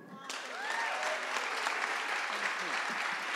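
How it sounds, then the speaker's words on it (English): An audience at a youth climate conference closing ceremony applauds, steady dense clapping swelling quickly and holding for a few seconds, close and full, with faint voices mixed in. "Let us give these young people here a round of applause"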